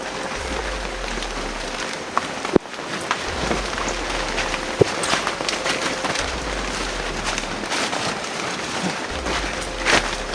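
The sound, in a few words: heavy rain in a video game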